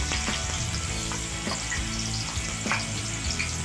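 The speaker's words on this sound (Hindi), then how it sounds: "हम अपना पैन ले लेंगे और उसमें पहले ऑयल डाल के प्याज ब्राउन करने के लिए रख देंगे।" Chopped onions brown in hot oil in a pan for green peas pulao: a dense, loud, continuous sizzle with light stirring scrapes, no voices.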